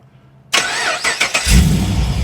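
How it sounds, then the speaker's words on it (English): A Holden Commodore VF SS Walkinshaw Enhanced 315kW V8 is started by remote: a quiet lead-in, then the starter whirs, the engine catches with a loud burst and settles into a rumbling idle close by. "So car start up."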